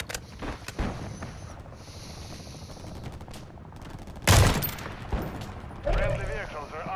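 Gunfire in Modern Warfare 3 on PS5: bursts of rapid automatic shots rattle throughout, capped by a loud heavy blast near the middle, with game sounds beneath and occasional speech.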